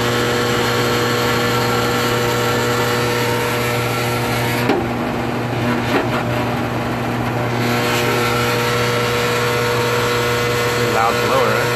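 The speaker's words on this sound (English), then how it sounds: "that's a loud blower." A loud furnace blower runs steadily during a residential furnace repair, a constant mechanical hum with strong low tones that holds throughout, with a few faint clicks and handling noises.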